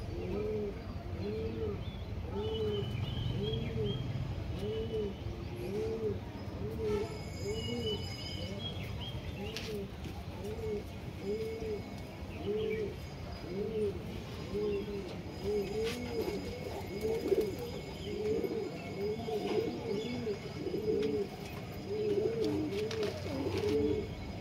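Pigeons coo in a steady, repeated rhythm close by, with a male pigeon being handled among them in a pigeon house, and a low background rumble runs underneath throughout.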